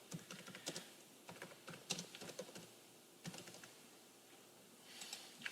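Quiet, close typing on a computer keyboard, irregular bursts of light key clicks with brief pauses between words.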